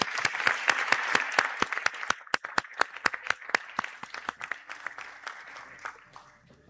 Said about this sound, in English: I call upon you to give him a round of applause for his efforts